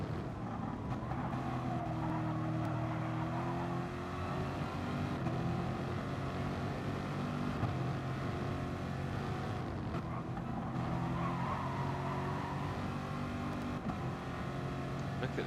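Race cars including a Porsche and a Corvette run at Laguna Seca in a 2021 endurance race, making a continuous engine drone that rises and falls as they pass, under steady commentary.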